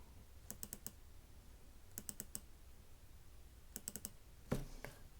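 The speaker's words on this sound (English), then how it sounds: "type in sample" Typing on a computer keyboard: three quick clusters of four or five light key taps spaced about a second and a half apart, then a single sharper click near the end, all quiet and close with no talking.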